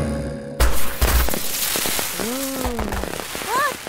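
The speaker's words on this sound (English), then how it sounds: "Look, you're missing the fireworks!" Cartoon fireworks burst around a birthday surprise: sharp pops and crackles, then whistling tones that rise and fall, over an animated soundtrack with character voices.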